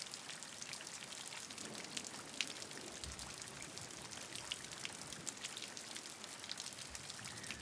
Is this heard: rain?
yes